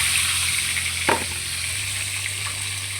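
Eggs frying lightly in a pan, a steady hissing sizzle close by with one sharp scrape or tap early on and a faint stir later.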